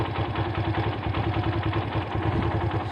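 Motorcycle engine idling and chugging steadily up close, a continuous low rhythmic rumble with clattery pulses and no voices.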